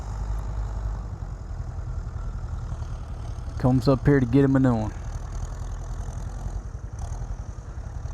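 A tractor engine idles on the beach sand at Pattaya before sunrise, a low steady rumble in the background, while someone speaks briefly partway through.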